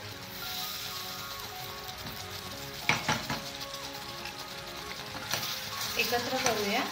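A fig (anjeer) jam mixture with cinnamon and lemon bubbles and sizzles steadily in a pan, with a few scrapes of stirring and light utensil clatter near the end.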